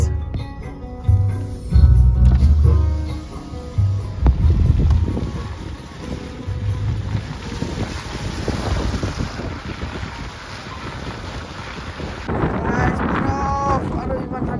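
Strong wind roars and buffets the microphone in snowy Tawang, Arunachal Pradesh, a steady rushing hiss with gusty swells under intermittent talk.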